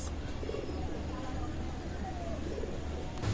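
Aliwala pigeons in a loft give low, soft coos beneath a steady hum of background noise, faint and fairly distant throughout.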